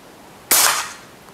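A single sharp airsoft gun shot fired during a muzzle velocity test, a loud crisp crack standing alone after quiet, with a short decaying tail.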